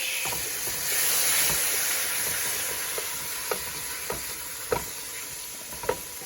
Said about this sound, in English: So now we're going to go ahead and throw our pearl onions in there. Stir them about.